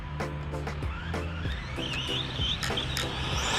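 An Arrma Vorteks 3S BLX RC car rips past at full throttle on a trail, its high brushless motor whine rising and falling with rapid pulsing bursts as it speeds by close up.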